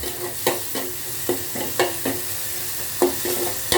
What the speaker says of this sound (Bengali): মিক্স করে মশলাটাকে ভালো করে কষিয়ে নেব।